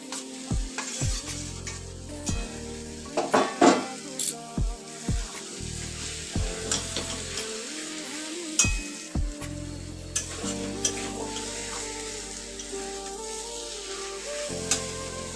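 Fried capsicum and potato are stirred into cooked masala in a pan, with steady sizzling under repeated scraping and knocking strokes of a spatula against the metal, loud and close.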